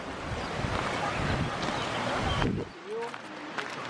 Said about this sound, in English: It's a cool river down there.